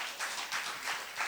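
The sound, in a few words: audience applause during interview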